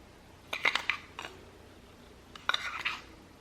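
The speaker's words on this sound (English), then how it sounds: "So I'm going to just spoon in loosely." A metal spoon scrapes and clinks against a container while loose ground coffee is spooned into the filter basket of a stovetop coffee maker, two short bursts of close, light scooping taps separated by a quiet pause.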